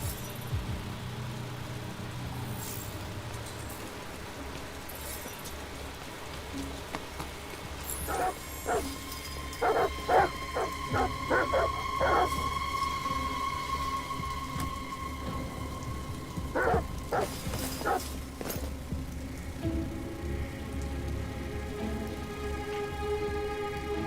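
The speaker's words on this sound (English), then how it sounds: "Goddamn dogs. What the fuck are they barking at?" Dogs bark in short bursts outdoors during a thunderstorm in Detroit: Become Human, the yelps cutting through steady rain and low rumbling thunder, moderately near and without talk.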